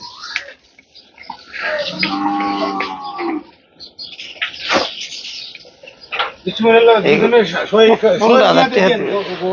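Cattle for Qurbani at the crowded Gabtoli livestock market in Dhaka. One cow lets out a loud, drawn-out moo near the start, and buyers and sellers then talk and bargain loudly close by.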